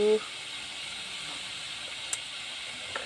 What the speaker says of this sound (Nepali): एकछिन पक्न दिन्छु मसलाहरूलाई।